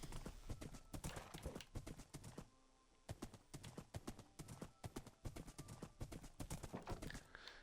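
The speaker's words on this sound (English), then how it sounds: "It's a fast horse." A fast horse gallops in a video game, its hooves striking in a steady, rapid clip-clop that pauses briefly and then picks up again.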